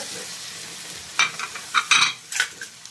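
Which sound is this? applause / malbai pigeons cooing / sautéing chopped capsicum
sautéing chopped capsicum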